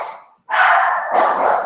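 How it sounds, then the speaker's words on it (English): Dogs bark loudly and close by in two short yelping bursts separated by a brief gap. "doggies are evil and annoying."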